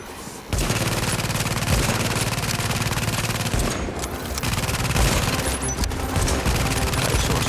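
Rapid automatic fire from a deployed turret in The Division, a loud, dense burst of machine-gun shots running almost without pause, with a brief dip partway through before the fire resumes.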